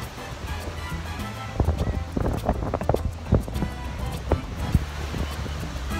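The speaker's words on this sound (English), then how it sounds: "It's really windy!" Steady wind buffets the microphone with a low rumble throughout, while people's voices come and go over it.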